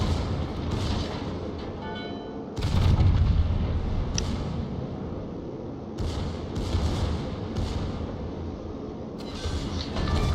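Naval guns of the German battleship Großer Kurfürst firing in World of Warships, with several deep booming salvos over a constant low engine and sea rumble.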